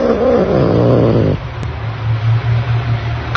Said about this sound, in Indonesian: dan menggeram kepada aku